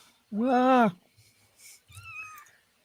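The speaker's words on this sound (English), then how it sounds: "I hear kitties" A cat gives one loud, drawn-out meow up close, followed a moment later by a softer, shorter mew.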